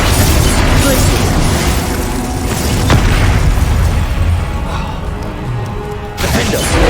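Confringo spell explosions in the video game Hogwarts Legacy: loud, dense booms and bursting pops with a crackling, rumbling wash, near and continuous, with a sharp crack partway through.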